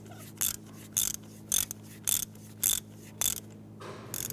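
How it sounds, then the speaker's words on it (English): A ratchet runs a spark plug down on a 1992-1996 Toyota Camry, sounding in regular bursts of rapid clicking roughly every half second, close-up over a steady low hum. "you can go ahead and run it down the rest of the way with your ratchet"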